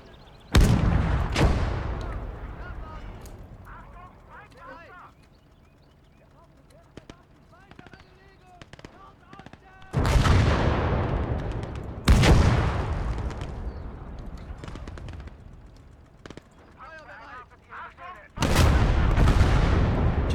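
Gunfire and artillery in the WWII strategy game Gates of Hell, several loud booming shots spaced apart with sharp decaying tails, scattered smaller clicks and effects between them, and someone talking over the quieter stretches.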